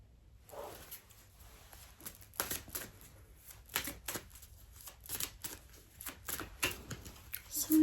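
Tarot cards are shuffled in a series of crisp riffling bursts, irregular and close, with brief pauses between, in an otherwise quiet room.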